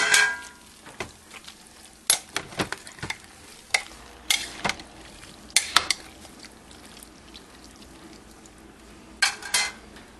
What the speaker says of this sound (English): And I'm probably going to need this spoon.